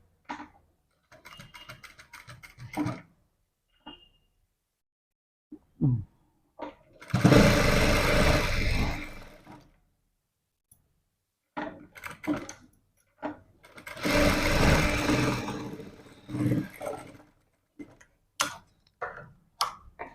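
A sewing machine stitches cloth along a placket strip in two long, loud runs of rapid mechanical whirring, separated by quieter stretches of clicks, taps and handling of the fabric.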